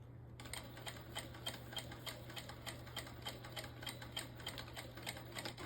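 A Vevor sewing machine stitches steadily with a fast, even rhythm of mechanical ticks over a constant low motor hum, close and moderately loud, with no talking.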